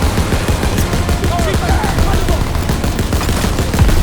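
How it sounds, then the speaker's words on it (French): Dense, continuous gunfire from a mounted machine gun in the Call of Duty WWII game, a loud sustained clatter of rapid shots with low booms throughout and no talk over it. "Je me mets à la mitrailleuse!"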